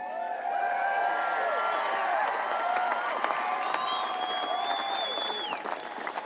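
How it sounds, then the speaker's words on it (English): A large outdoor crowd of over 21,000 at a Donald Trump rally in Butler, Pennsylvania, cheering and shouting: a steady, dense roar with whistles and scattered voices rising above it throughout. "cheering and shouting"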